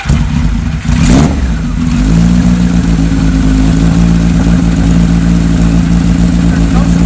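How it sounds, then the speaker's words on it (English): A 1977 Kawasaki KZ1000A motorcycle engine, close and loud, blipped once with a rising rev before settling into a steady, throbbing idle that continues to the end. "The motor really sounds good."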